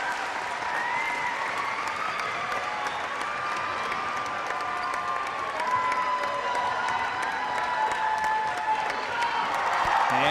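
A partisan home crowd at a high school basketball game at Wenatchee High School claps and cheers continuously as the Panthers come through a human tunnel, a dense, sustained roar of applause.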